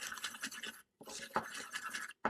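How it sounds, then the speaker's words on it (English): Dry ingredients for apple fritters being whisked in a bowl: a busy, scratchy rhythmic scraping in two bursts separated by a short pause, close and fairly quiet, with no voices. "we're going to whisk this until everything is combined"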